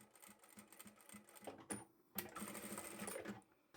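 A sewing machine stitches vinyl upholstery fabric for a bag, running as a fast, close, rhythmic mechanical chatter that pauses briefly and then resumes. There is no talk.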